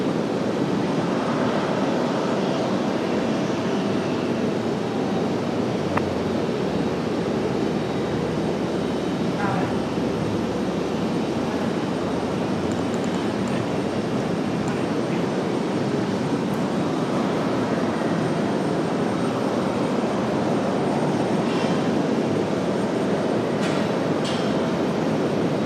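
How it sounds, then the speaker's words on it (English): A JetBlue airliner in NYPD livery, diverted from Charlotte, arrives at Raleigh-Durham airport, its steady broadband roar filling the whole stretch at a constant, fairly loud level with no talk over it. "JetBlue NY livery, NYPD livery coming at us right now from Charlotte"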